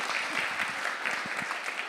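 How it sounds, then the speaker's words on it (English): Brief, steady applause from an audience at a community organisation's annual general meeting, a continuous patter of many hands clapping at even loudness. "Applause for Jan."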